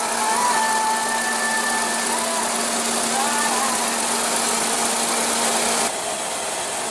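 A 2015 Nissan Sentra's 1.8 L four-cylinder engine runs at a steady idle, giving a loud, even hum with a faint whine; the level drops slightly near the end.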